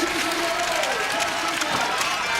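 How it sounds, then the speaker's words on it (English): A home crowd cheers a Swiss runner approaching the finish of an orienteering World Cup middle-distance race, a steady wash of distant crowd noise beneath a commentator's voice. "She is cheered on home by the home crowd"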